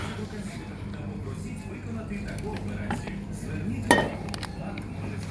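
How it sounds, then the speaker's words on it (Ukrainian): A single sharp metallic clink of metal kettles with lids rings out in a store, with a few lighter taps around it over a low background murmur. "Металеві чайники йдуть разом з кришкою."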